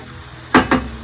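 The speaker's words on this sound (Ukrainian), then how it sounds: "Зараз ми на цьому жиру, який розтоплений, е, робимо зажарочку" Rendered muscovy duck fat frying onions, with two short bursts of sizzling and stirring close up over a quiet background hiss.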